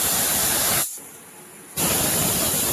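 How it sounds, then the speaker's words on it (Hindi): A pressure cooker on an induction cooktop, cooking vegetable soup, lets out two loud, close bursts of hissing steam from its whistle, with a short quieter gap between them and no talking. "2 सीटी आ गई कुकर में।"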